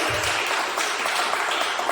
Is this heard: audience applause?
yes